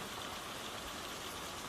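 Steady rain falls outside as a soft, even hiss of drops on surfaces, constant and fairly faint, with no voices.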